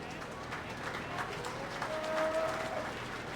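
Faint, distant applause from an audience at a youth livestock showmanship event, thanking parents, volunteers, FFA advisors and 4-H leaders, heard as a soft continuous patter in a large reverberant arena with a brief tonal whistle partway through.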